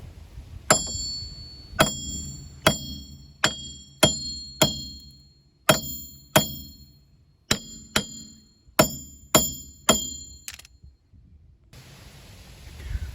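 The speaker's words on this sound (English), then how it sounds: "sledgehammer, just banging on it, getting it loose" Sharp metallic clangs ring out about a dozen times at a steady pace, each sledgehammer blow on a 2010 Hyundai Sonata rear wheel hub followed by a short ringing decay.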